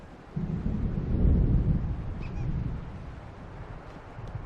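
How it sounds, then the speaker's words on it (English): Deep thunder from an approaching storm in the game Alan Wake rolls in as a low rumble, swelling for a second or two and then fading under faint wind. "The storm is almost here."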